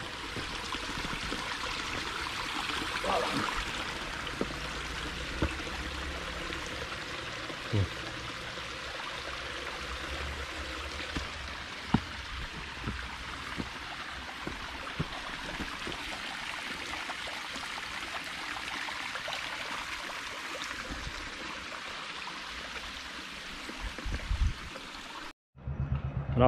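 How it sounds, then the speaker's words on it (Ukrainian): A small waterfall splashes and rushes steadily throughout, with occasional faint knocks and rustles nearby. "Подивимося, що це за водопад тут такий інтересний"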